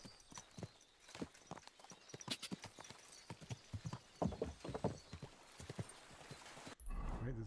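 Horse hooves clip-clop in a steady series of close, sharp strikes in the medieval game Kingdom Come: Deliverance II, with a brief whinny and people chatting over them.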